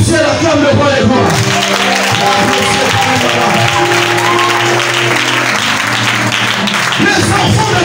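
A church congregation at a French-language sermon breaks into loud applause and cheering that fills the room for several seconds. Voices shout over the clapping.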